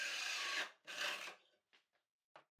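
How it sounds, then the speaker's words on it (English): A drill bores a hole through a wooden board in the workshop, two close loud bursts of spinning bit followed by a few short fainter taps and scrapes. "And then I just drill my hole."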